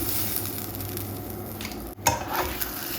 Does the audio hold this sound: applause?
no